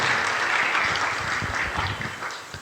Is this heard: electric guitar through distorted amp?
no